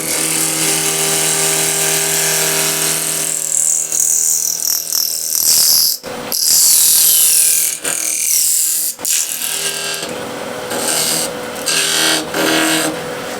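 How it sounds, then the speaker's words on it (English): Wood lathe spinning at 2300 RPM while a gouge rounds over a wooden wheel, a loud steady hum with hissing, scraping cuts that break off and resume several times. "The lathe is running at 2300 RPM"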